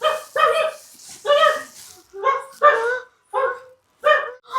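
A dog barks in a series of about seven sharp, yelping barks at an uneven rhythm, loud and close, with short pauses between them.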